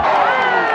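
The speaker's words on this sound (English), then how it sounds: "The crowd is animated as they're looking to make a defensive stance." A football stadium crowd cheers and shouts in a dense, continuous roar during a short, steady burst.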